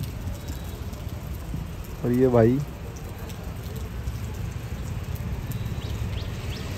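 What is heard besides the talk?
rain falling in the hills of Dehradun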